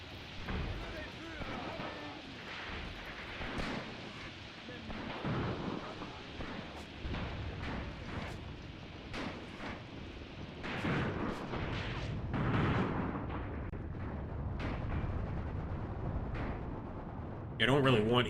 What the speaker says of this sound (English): Oh, they're throwing grenades.